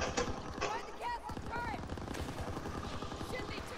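Rapid machine-gun fire in the World War II shooter Call of Duty WWII, with fast rhythmic bursts running throughout as voices talk over the battle.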